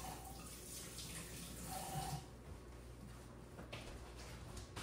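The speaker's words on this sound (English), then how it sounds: "Let me wash my hands." A faucet runs in a soft, steady hiss as hands are washed under it, then the flow eases off to a quieter trickle partway through. It sounds faint and close-up in a quiet kitchen.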